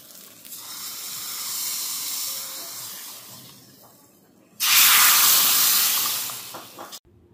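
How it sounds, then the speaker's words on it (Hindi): Cumin and asafoetida sizzling in hot ghee, a soft steady hiss that suddenly flares into a loud, bright crackling sizzle for a few seconds before cutting off. "तो इसमें लगाया है मैंने छौंका, थोड़ा सा देसी घी,"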